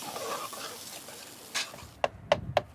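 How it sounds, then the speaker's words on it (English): A spoon stirs a coconut milk and turmeric curry in a pot in Mombasa, Kenya, under a soft simmering hiss, ending in three sharp, close scrapes against the pan. "I'll give it a bit of a stir for you"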